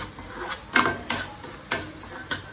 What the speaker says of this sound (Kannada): ಇದನ್ನು ಚೆನ್ನಾಗಿ ಫ್ರೈ ಮಾಡ್ಕೊಳ್ಳೋಣ